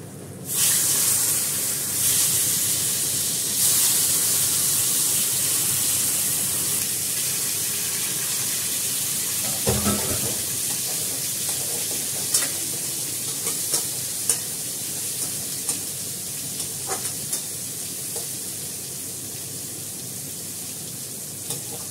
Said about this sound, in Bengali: কুমড়োগুলো ভাজবো